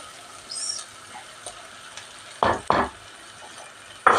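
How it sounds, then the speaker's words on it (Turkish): Bulgur being stirred into sautéed tomato paste in a pot for Malatya-style düğür soup: a quiet low sizzle with a few scraping strokes, then two louder sharp scrapes near the middle and another at the end, no talking. "Arkadaşlar şimdi düğürünü koyuyorum."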